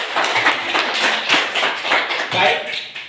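Students in a classroom clap together, a brisk, fairly close burst of mixed hand claps lasting about three seconds, with voices mingling underneath.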